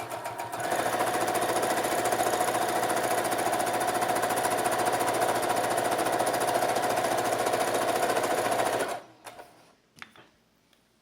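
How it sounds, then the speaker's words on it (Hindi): A sewing machine stitches two pieces of fabric together for a baby knicker, running in a fast, steady, rattling burst for about eight seconds before stopping abruptly into near quiet. "अब इन दोनों कपड़ों को ऐसे लेकर सिलाई की जाएगी।"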